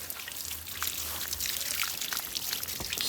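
Water poured over a Brahman heifer being washed for ticks, a steady close splashing and trickling stream running continuously throughout with no talk.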